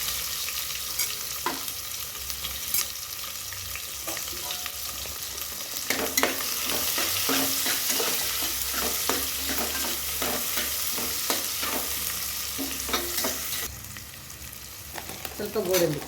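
Onion, cashews, coriander and fenugreek fry in a pan while being stirred for mushroom biryani, giving a steady sizzle broken by repeated scraping strokes of a spoon, close and fairly loud throughout.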